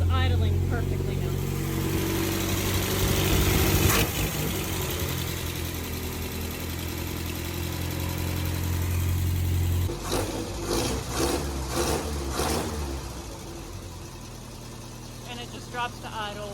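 An MG car engine idles with a steady low rumble and a brief rev, running without choke, while people talk over it.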